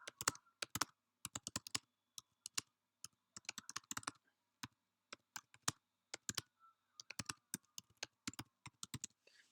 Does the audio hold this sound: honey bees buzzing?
no